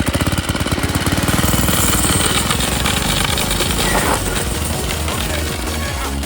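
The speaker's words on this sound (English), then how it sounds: "I wonder if we could get it up in the air and just see if it spins the tire really." Cheap $30 motorized bike engine revving hard while the rear tire spins freely in the air, a loud, steady, rapid buzzing putter that holds throughout.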